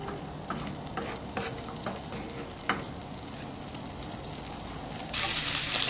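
Floured, seasoned fish fillets fry in melted butter for a meunière, a steady close sizzle broken by a few sharp crackles and pops, turning suddenly brighter and louder near the end.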